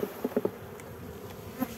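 Honey bees shaken from a frame into a hive give off a brief, faint buzz with a few quick pulses at the start and a short burst near the end.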